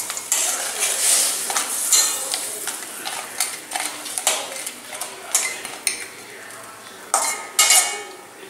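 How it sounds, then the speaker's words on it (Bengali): Prawns cooking in coconut milk curry in a home kitchen pan, with a spoon scraping and clinking against the metal in irregular strokes over a soft simmer, fairly quiet and close. "এবার আমি এতে নারকেলের দুধটা দিয়ে দিলাম। চিংড়ি দিয়ে দিলাম এর ভিতর।"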